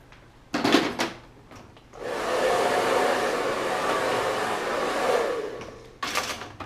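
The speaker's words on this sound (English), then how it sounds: "We'll blow dry with volume and everything too." A handheld hair dryer roars steadily for about four seconds while blow-drying hair for a short bob cut, framed by brief clattering handling noises before and after. No talking.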